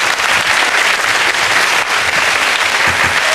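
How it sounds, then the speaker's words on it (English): A television studio audience applauds loudly and steadily, a thick, sustained wall of clapping lasting several seconds with no voices over it. "Give them a round of applause, please."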